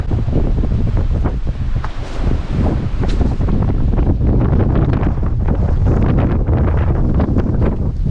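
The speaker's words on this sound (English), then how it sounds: "It's pretty windy here. So windy." Strong wind on the South Australian coast roars steadily and loudly across the microphone, with gusty buffeting throughout and no voices.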